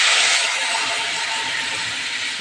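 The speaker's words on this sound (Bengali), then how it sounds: "তার মধ্যে ডালটা ঢেলে দিতে হবে।" Cooked lentils (dal) hit hot oil tempered with cumin seeds, bay leaf and dried red chilli, giving a loud, steady, close sizzling hiss that holds evenly for the whole moment with no voices.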